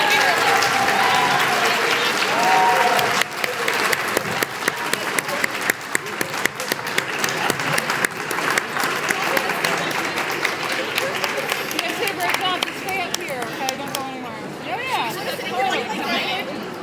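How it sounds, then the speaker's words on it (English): Audience applause rings out for both teams at a middle school debate championship: sustained, dense clapping with scattered whoops and crowd chatter, easing slightly toward the end. "Let's have some applause for both the teams"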